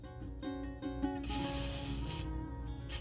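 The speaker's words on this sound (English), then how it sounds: "I'm going to spray a little WD-40 on there." WD-40 sprayed from an aerosol can onto a gummed-up hot water line under a kitchen faucet, a steady hissing spray of about a second after some light handling clatter, close and moderately loud.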